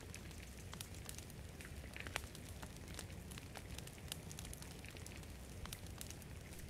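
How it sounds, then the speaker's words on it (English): Bonfire in The Forest video game, a steady bed of crackling fire noise with scattered sharp pops and snaps, even and continuous throughout with no voices. "Good old-fashioned bonfire"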